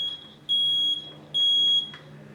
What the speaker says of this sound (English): you can hear it beeping, and that's how we know that that smoke detector is good